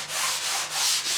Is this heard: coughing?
no